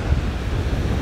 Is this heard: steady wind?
yes